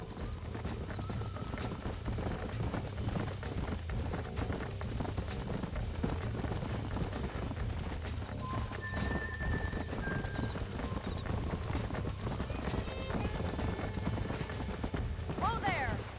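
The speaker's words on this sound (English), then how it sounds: "These are fine horses." Horse hooves clip-clop steadily at a trot in the video game Red Dead Redemption, over continuous background noise and music, with a brief horse whinny near the end.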